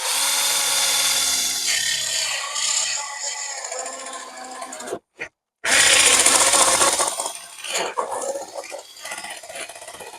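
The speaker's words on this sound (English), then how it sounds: "going to get cracking straight on now with drilling some of these bits out" A drill bores out bits in wood during interior boarding, grinding and rasping in bursts with a brief pause midway before biting in again, close and loud.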